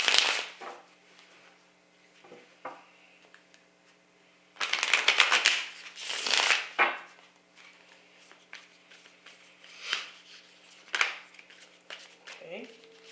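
A fresh deck of tarot cards is shuffled in quick riffling bursts and soft slides, close by, with brief pauses between handfuls and a quieter stretch before a louder flurry.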